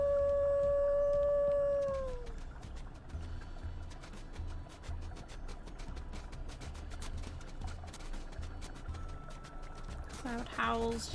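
A wolf howls in the WolfQuest video game: one long, smooth, drawn-out tone that slides downward and fades after about two seconds, followed by ambient game sounds and a faint later cry.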